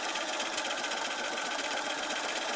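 A sewing machine quilts rose petals with Aurifil thread, its needle running in a fast, steady mechanical chatter, close and continuous, with no talk.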